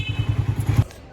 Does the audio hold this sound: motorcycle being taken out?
yes